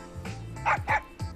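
Koromaru, the dog from the video game Persona Q: Shadow of the Labyrinth, gives a quick series of three or four short, yippy barks, close and clear.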